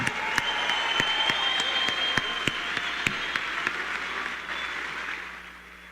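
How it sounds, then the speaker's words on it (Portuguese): A round of applause rolls through a crowd, dense clapping with a few sharper claps standing out, holding steady for several seconds before thinning and fading at the end. "Uma salva de palmas para Arthur Duval."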